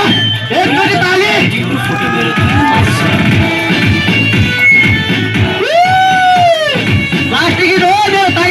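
A festival crowd cheers, whoops and yells at a live stage performance, loud and close, with a dense babble of voices and sustained shouts rising above the noise.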